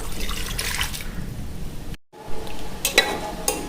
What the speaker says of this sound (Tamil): 1 டம்ளர் தண்ணி ஊற்றிக்கலாம்.